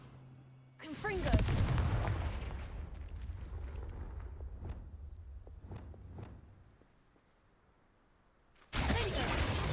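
Confringo fire spell blast in the Hogwarts Legacy video game: a loud burst of fiery rumble that tails off over several seconds with crackles, followed by a second abrupt loud blast near the end.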